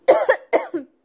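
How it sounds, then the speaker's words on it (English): Two double coughs from a person with a cold, close and fairly loud, each a sharp burst followed by a shorter second hack, separated by a brief pause. "I'm coughing because I have a cold"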